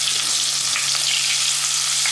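Chopped onion with a little sugar frying in a pan, giving a steady, close, even sizzle with a faint low hum beneath and a few soft stirring touches.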